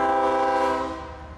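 A freight train rolling slowly at about 10 miles an hour over a railroad defect detector, its horn sounding a sustained, loud multi-tone blast that fades over a second or so.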